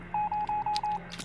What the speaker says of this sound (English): It's way too dangerous to randomly run to a ringing phone.